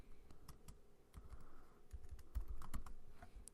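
Code is typed on a computer keyboard, a quiet, close run of quick irregular key clicks, alone with no voices.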